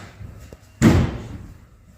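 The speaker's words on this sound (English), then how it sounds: "Open up door. Maybe, if the door opens." The door of an old, badly rusted Oldsmobile Cutlass gives a single loud metallic clunk and scrape as it is forced open, then it goes quiet.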